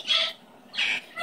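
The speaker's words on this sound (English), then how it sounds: "Look at my pretty bird." A pet bird gives three short, bright calls in quick succession, each a fraction of a second long, close and fairly loud with no talking.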